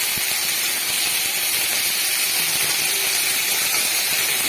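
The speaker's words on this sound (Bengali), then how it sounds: "এটা আমি ভালো মতো নাড়তে থাকবো" Ash gourd shoots with a little turmeric are stirred in a hot pan, giving a loud, continuous hissing sizzle that stays even and unbroken throughout.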